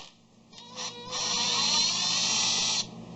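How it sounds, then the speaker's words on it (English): A handheld impact screw gun whines as it backs screws out of plastic bodywork on a 2006 Honda Metropolitan/Ruckus scooter, with short buzzing bursts followed by a sustained high-pitched spin that cuts off abruptly. "I'm using a impact screw gun"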